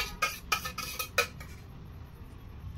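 Sweet corn kernels being stirred together with other ingredients in a bowl, giving several quick close clinks and scrapes of a utensil in the first second and a half, then a quiet tail.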